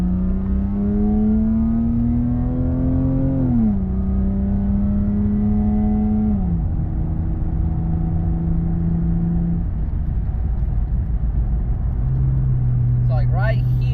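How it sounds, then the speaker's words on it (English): A Lexus car on a road test drive, its engine note rising and stepping through shifts as it accelerates, steady road rumble underneath, close and continuous while a person talks over it. "So this is gonna be the actual test drive right now."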